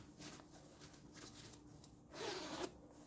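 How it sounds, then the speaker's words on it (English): A side zipper on a plain black bomber jacket is pulled up in one soft, raspy stroke near the end, quiet and close with no talking. "it zips up"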